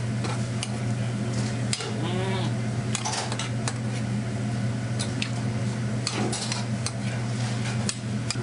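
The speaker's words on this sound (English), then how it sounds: "we're gonna add our cheese tortellini. And we're gonna give this a nice mix here" Cheese tortellini is stirred in a pan over a steady fan-like kitchen hum, with scraping utensil strokes, light clinks and a faint sizzle.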